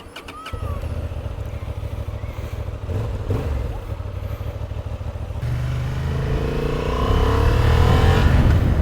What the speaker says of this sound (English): So this is the Honda CB750 Hornet 2023 model, and we'll take it out for a little spin back to the dealer.